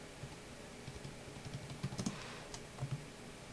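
Someone types a password on a computer keyboard while configuring a network switch, producing soft, scattered key clicks with a few quick clustered taps, close and quiet in a calm room.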